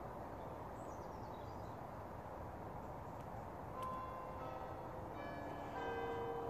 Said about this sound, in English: And there we have the bells for 9 o'clock.